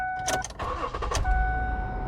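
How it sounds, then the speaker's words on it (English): A 2007 Ford Edge engine cranking and firing up, a brief whirring crank followed by the engine catching and settling into a steady low idle, with a chime tone before and after. "So let's start it up, and you can hear how it is"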